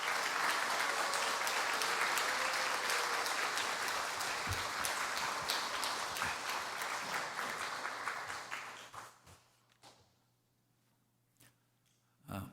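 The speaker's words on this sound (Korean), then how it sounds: "우리 김은환 선교사님 나오실 때에 우리 힘찬 박수로 격려와 환영 부탁드리겠습니다" A church congregation at a Friday worship service claps warmly to welcome a missionary, dense sustained applause that thins and fades out near the end, leaving a few scattered claps and a quiet room.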